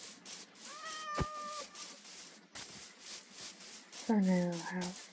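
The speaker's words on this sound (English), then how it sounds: "Kitty cat." Several high, drawn-out cat meows from a cat in the video game Minecraft, one early and a louder, wavering one near the end, over a steady background hiss.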